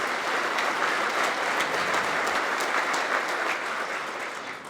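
An audience at a Winchester Citizen of the Year ceremony claps steadily in a dense, sustained round of applause that slowly tapers toward the end.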